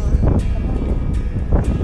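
Strong wind buffets the microphone on the deck of the passenger ship M/V St Francis Xavier in a steady, deep rumble, with gusty surges and the distant drone of the vessel underneath.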